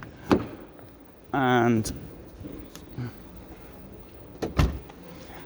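The rear door of a Weinsberg CaraBus 540MQ camper van opens with a loud mechanical clunk and a short rattling slide, followed by softer thuds, while someone talks nearby.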